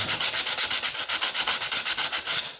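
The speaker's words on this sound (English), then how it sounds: "First we gonna take some sandpaper and clean all the connections," Sandpaper scrubs the connections of a 300 cc lawnmower's ignition coil in about eighteen quick, even back-and-forth strokes, close and rhythmic, ending abruptly.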